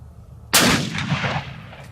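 A single loud, sharp report from a Ruger Precision Rifle on a 200-yard range, with a short echoing tail that fades over about a second.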